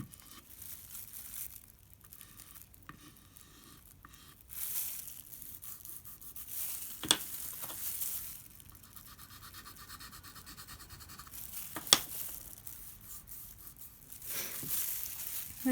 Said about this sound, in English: just go back over it with your chalk